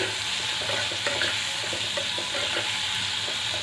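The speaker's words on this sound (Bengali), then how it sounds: "সিমটা একটু ভেজে নিলে তাহলে ভালো টেস্ট হয়" Flat beans frying in a pan on low gas with salt and turmeric give off a steady broadband sizzle, with soft stirring scrapes recurring throughout. No voices are heard.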